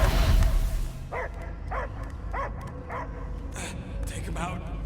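A dog gives a run of regular, evenly spaced barks and yips, about six in a row, over a low rumbling background after an opening burst of noise, with speech mixed in.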